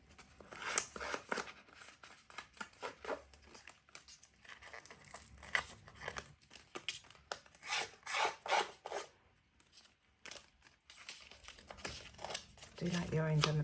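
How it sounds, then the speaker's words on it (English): Paper edges being lightly distressed for a scrapbook layout give close, dry scraping and rasping strokes in quick irregular bursts, with a voice talking over parts of it. "So just distress these edges quickly, just a light distressing."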